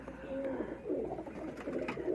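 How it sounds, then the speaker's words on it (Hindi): Tir par pigeon cooing softly in short, repeated rolling coos, a quiet bird close by with a faint murmur of background noise. "ये तीर पर का कबूतर है।"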